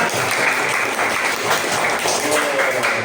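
A classroom of students applauds a classmate who gave an answer, dense and loud clapping that fills the whole short stretch without pause.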